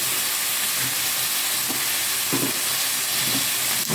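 Chopped green vegetables sautéing in a hot pan, with a steady close sizzle and a few louder spits and crackles as the food is stirred, no voices.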